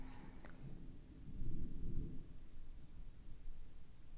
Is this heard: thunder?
yes